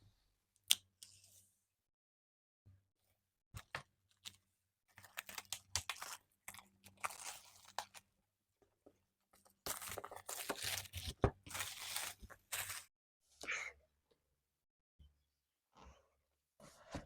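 Packaging torn open while unboxing a MacBook Air M2: quiet, close bursts of tearing, crinkling and rustling, separated by silent pauses and growing busier toward the middle.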